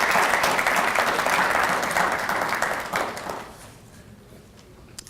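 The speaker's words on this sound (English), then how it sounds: "So let's give our parents a round of applause." Audience applause for parents at a corporate annual recognition ceremony, a dense wash of many hands clapping that starts loud and gradually fades to a quiet room by the end.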